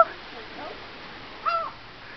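A seagull gives one short, harsh call midway through, fairly close, with a faint earlier squawk at the start over quiet outdoor background.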